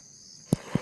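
Faint, steady high cricket chirring in a quiet mountain setting in Shikoku, Japan, broken near the end by two soft, close low thumps.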